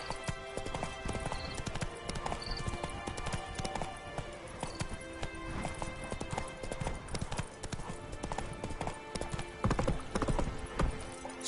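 Hoofbeats of a horse galloping in the video game The Witcher 3, a steady rapid clip-clop running throughout with a brief whinny and busy game sounds layered over it.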